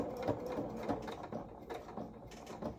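A sewing machine stitches a seam on small doll coveralls, a close, quiet, rapid mechanical chatter of needle strokes with a few slight pauses and changes in pace.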